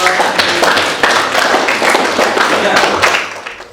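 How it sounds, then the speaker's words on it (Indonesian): Classroom applause as students clap for a group that has just finished presenting, a dense, loud burst of many hands lasting a few seconds and tapering off at the end, with faint voices mixed in. "Oke, masih tepuk tangan dulu untuk kelompok."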